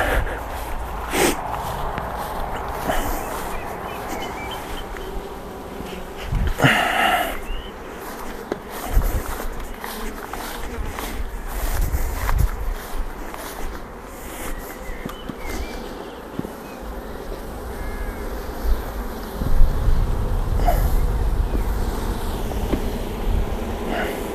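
Honeybees humming at an open hive during queen-rearing grafting, with a steady close drone, scattered handling knocks and rustles, and a low rumble swelling near the end.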